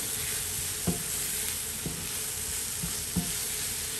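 Onions sizzling steadily in a pan for a beef sauté, a soft continuous fry with a few light utensil taps, close and moderate in level.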